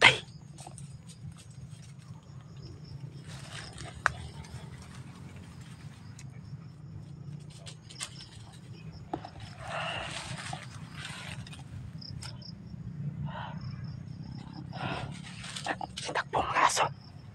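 A dog whimpers and gives scattered short barks outdoors, moderately near, over a constant low hum, with people talking at times.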